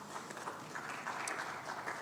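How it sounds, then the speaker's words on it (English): A seminar audience applauding, a short burst of steady mid-distance clapping from many hands at moderate volume. "I think you need to applaud yourself"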